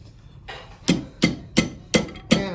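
A weighted hammer strikes an annealed silver ring six times in a steady, slightly quickening rhythm, each blow a sharp, close metallic thud with a brief ring-out, the first tap softer than the rest.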